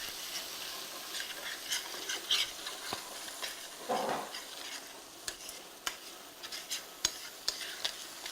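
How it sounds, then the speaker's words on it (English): Curry sears in a hot pan with a steady sizzle and frying hiss, broken by utensil scrapes and stirring clicks, close and without talk. "I'm just kind of like searing the curry, but I don't want it to burn."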